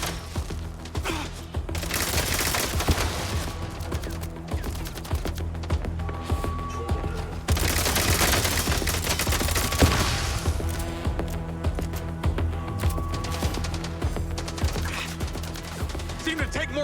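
Gunfire in the video game MindsEye: dense, continuous bursts of rapid automatic shots layered over a game soundtrack with sustained tones, steady and fairly loud throughout with no pauses.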